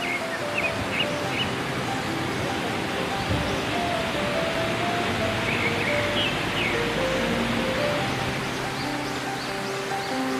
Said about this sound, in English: we can hear the roaring sound of the waterfall at the adjacent valley